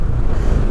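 Strong wind roaring against the microphone while riding a motorcycle through a river valley, a loud, constant low rumble with no break.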